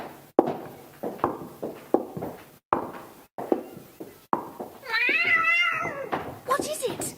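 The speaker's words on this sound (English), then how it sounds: "That cat." Audiobook cat sound effect: a clear, close meow with rising and falling tones, preceded by rhythmic footsteps or knocks and followed by a shorter cry.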